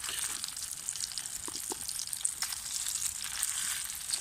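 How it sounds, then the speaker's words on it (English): Pepper beef steak grills with a continuous soft sizzle and faint popping, close and steady, during a bike-packing trip, with no speech. "Pepper beef grill steak"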